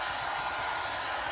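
A pet grooming hair dryer blows steadily, a loud continuous airy roar with no pauses.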